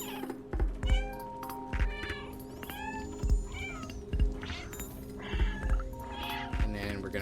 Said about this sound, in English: We get a nice little close-up of Kitty